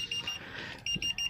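A motorcycle's TPMS low rear tire pressure alarm sounds a few short, high electronic beeps in quick pulses, fairly close and clear over quiet background noise.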